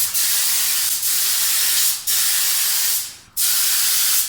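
A paint spray gun fed by an air compressor hisses in loud, steady bursts, with four long sprays separated by brief gaps, close up with no talking.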